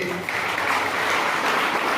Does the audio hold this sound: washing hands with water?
no